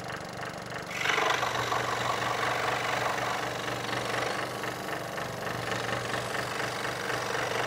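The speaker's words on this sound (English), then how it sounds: "and then you've seen the jigsaw before, and it gets all the little small details." A jigsaw cuts the small details out of a tactile 3D sculpture of a children's-book character, its motor running as a steady, loud, rough buzz that starts after a second and continues without a break, with no talk.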